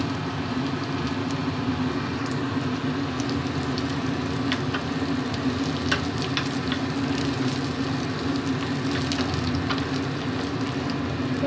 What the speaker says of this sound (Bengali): রসুনগুলো হালকা ব্রাউন হতে শুরু করেছে। এইভাবে এটা ভালো করে ভেজে নেব।